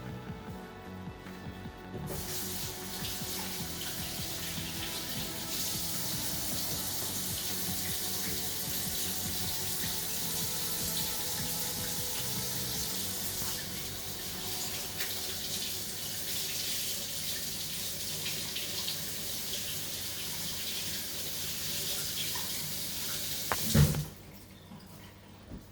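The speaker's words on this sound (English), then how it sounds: "Let me wash my hands." Hands washed under a running kitchen tap, a steady hiss of water flowing into the sink for about twenty seconds, ending with a brief clunk as the faucet shuts off.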